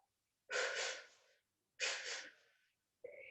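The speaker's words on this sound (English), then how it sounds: "Come back to that Pilates breath. 2 quick exhale." Two sharp, forceful exhales of a Pilates breath, close and breathy, each fading over about a second, followed by the start of a third breath.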